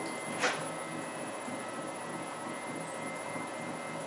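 An LT230 transfer box on a test run, spinning up to speed with a steady, even mechanical whir and hum and a brief higher swish near the start; no voices.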